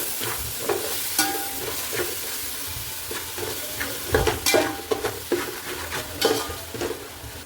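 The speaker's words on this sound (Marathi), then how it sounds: "मसाला पूर्ण चांगलं तेल सुटेपर्यंत परतून घ्यायचा" Onion masala with red chili powder, salt, yogurt and biryani masala sautés in oil for chicken biryani, a close steady sizzle broken by repeated scraping stirs and clinks of a spoon against the pan.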